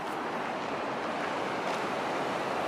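A river below Yellowstone's Lower Falls gives a broad, steady roar of rushing water at moderate distance, continuous with some wind buffeting and no talk.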